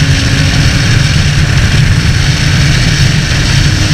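Honda CB650F motorcycle engine running steadily while riding, a loud continuous low rumble with wind buffeting throughout, no talking.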